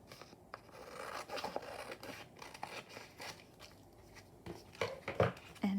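Scissors snip and slide through paper while a page for a handmade fairy journal is trimmed, giving quiet, close cuts and rustles with a few sharper snips toward the end.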